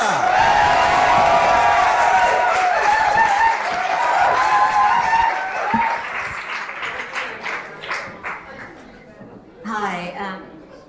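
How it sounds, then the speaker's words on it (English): An audience at a comedy night applauds and cheers a comedian taking the stage, dense clapping and whoops at first, then thinning into scattered claps as a voice begins over the fading applause. "Will you carry on that round of applause for Kae"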